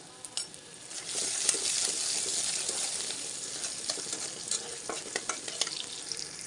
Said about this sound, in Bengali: শাকটা বাগার দিব, সেই জন্য আমি পেঁয়াজ আর রসুন ভেজে নিচ্ছি